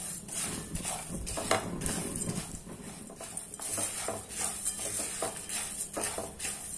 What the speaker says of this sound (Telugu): ఇలాచి, జీడిపప్పు, గసగసాలు ఇవన్నీ వేసి ఒక్క 2 మినిట్స్ ఫ్రై చేసుకోవాలండి.